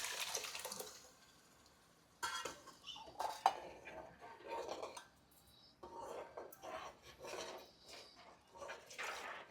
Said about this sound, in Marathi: आता डाळीला फोडणी दे